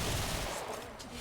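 Gunfire from other players in the Warframe video game, a dense, continuous fusillade of rapid shots sounding close and loud throughout the short stretch, with no talk over it.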